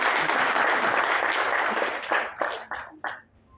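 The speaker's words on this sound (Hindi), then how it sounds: "जरा तालियों से अध्यक्ष का स्वागत करिए।" A crowd at a political party gathering applauds to welcome a newly appointed district president, dense sustained clapping that breaks into a few last scattered claps and fades out.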